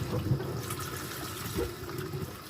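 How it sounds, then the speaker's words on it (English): Tap water runs and splashes while a fermenting bucket lid is rinsed off, a short, steady gurgling stream close by. "Might as well rinse this off while I have that here."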